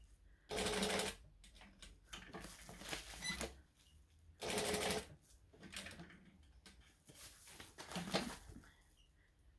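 Sewing machine stitches along the top edge of fabric in two long loud runs with shorter bursts between, close up and with no talk.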